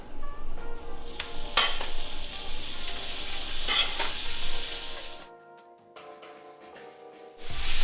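Burger patties sizzle loudly on a hot griddle for In-N-Out style burgers, a steady broadband frying hiss with a few sharp crackles, easing quieter for a moment before the sizzle surges back at the end.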